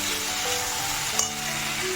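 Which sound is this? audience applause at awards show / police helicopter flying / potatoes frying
potatoes frying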